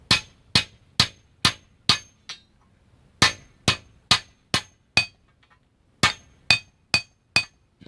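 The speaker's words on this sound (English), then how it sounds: "I'm going to beat the edges down so I can get it through my clip." Sharp metallic hammer strikes flattening the edges of steel conduit, in three quick runs of about four to five blows each, loud and close, ringing briefly between hits.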